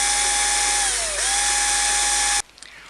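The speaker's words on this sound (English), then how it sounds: "We then proceed to cut out the center and the 4 holes for our screws." Power tool whining steadily as it cuts holes through a boat deck for a South Pacific windlass install, loud and continuous with a slight pitch dip midway, then stopping abruptly near the end with faint rattles after.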